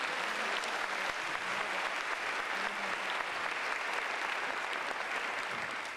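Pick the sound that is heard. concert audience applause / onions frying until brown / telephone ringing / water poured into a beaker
concert audience applause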